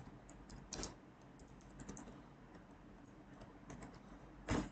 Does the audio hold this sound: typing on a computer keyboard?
yes